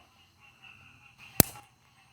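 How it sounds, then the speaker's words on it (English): A homemade electric fire starter fails to light a gas stove, giving a single sharp snapping click, with faint hiss around it in quiet surroundings. "I'm gonna use it like an electric fire starter"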